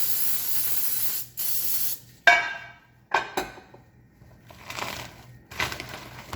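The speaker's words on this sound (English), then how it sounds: "Then we're gonna spray our pan." Several short hissing bursts of an aerosol cooking spray, close and fairly loud, separated by brief pauses and a soft clatter, with a faint hum underneath.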